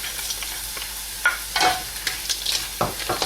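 Pork, potato and mixed vegetables with carrots sautéing in a pan for spring roll filling, a steady sizzle broken by sharp scraping stirs and clacks of a spatula, close and fairly loud with no talk.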